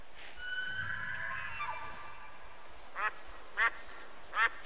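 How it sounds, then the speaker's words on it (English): A male elk calls in the hunting game Way of the Hunter on Aurora Shores: a high, wavering whistled bugle rises early, then three short, sharp calls follow at even spacing over a steady outdoor ambience. "a male elk."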